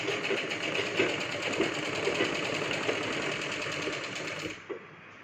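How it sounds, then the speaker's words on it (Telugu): A sewing machine stitching a kids' lehenga with a double stitch, a steady fast whirring rattle up close that stops abruptly near the end. "ఇలా అయితే స్టిచ్చింగ్ అయితే చేసుకున్నాను చూడండి ఇక్కడ నేనైతే డబల్ స్టిచ్ అయితే వేసుకున్నాను"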